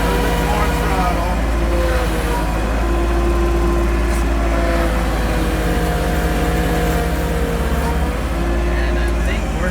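A John Deere 2210 compact tractor's engine drones and revs steadily while stuck in mud, a continuous loud mechanical hum with low rumble throughout, and a voice speaks over it at times.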